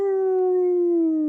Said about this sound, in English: I think that was a dog.